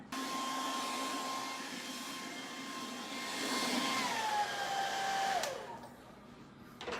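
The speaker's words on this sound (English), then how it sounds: "I'm going to do the hair dryer" A hair dryer blows steadily and close by, a constant whooshing hum whose pitch dips slightly near the end before it cuts off.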